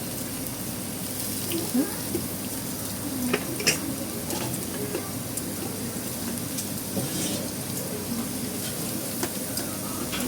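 Onion, ginger, garlic and curry leaves frying in oil with popping mustard seeds for a crow roast dish, a soft steady sizzle with scattered pops and clinks of stirring, under a voice.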